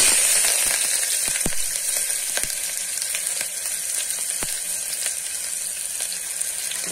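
Onions sizzle in hot oil in a pot with cloves and bay leaves for a homemade vegetable pulao, a steady close hiss broken by sharp crackling pops.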